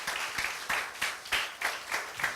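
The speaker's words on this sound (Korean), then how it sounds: "박수라도 쳐주시면 좋을 것 같아요." A church congregation at a youth worship service applauds, with fairly soft, evenly spaced group claps pulsing in a steady rhythm and no speech on top.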